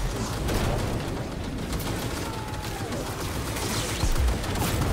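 Loud, dense gunfire in the video game Cyberpunk, with rapid overlapping shots and impacts forming a continuous roar with a sharper burst near the end.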